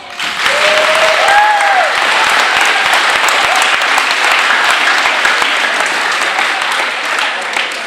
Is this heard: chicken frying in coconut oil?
no